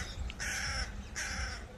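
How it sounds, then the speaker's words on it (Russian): Two faint, harsh caws from a crow in the village of Havatzelet, north of Netanya, Israel, spaced apart over a steady low outdoor rumble, with no one talking. "вот даже ворон каркает"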